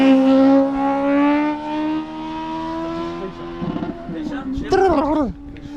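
A quad-motor toy car capable of 218 mph races down a runway with a loud, high electric whine of stacked tones that fades and drops in pitch over a few seconds, followed by voices talking.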